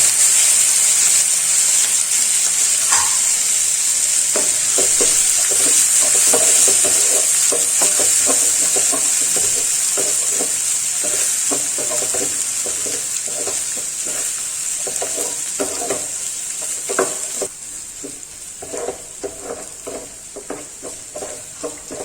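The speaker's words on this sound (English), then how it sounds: "We're sauteing the whole mixture, the onion, the tomatoes, the cumin seeds and green chili." Onion, tomatoes, cumin seeds and green chili sauté in a hot pan for akuri, giving a steady loud sizzle with repeated scraping stir strokes. The hiss eases slightly toward the end.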